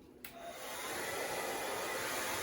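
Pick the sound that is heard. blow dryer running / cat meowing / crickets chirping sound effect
blow dryer running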